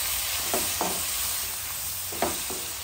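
Tomatoes fry with a continuous sizzle in a pan for a Punjabi-style mixed vegetable sabzi, with a few short scraping stirs of a spoon over the steady crackle. Nobody speaks.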